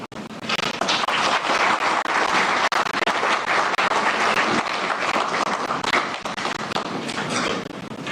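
Loud, sustained applause from a large crowd at an election observer mission media briefing, dense clapping filling the whole stretch without a break.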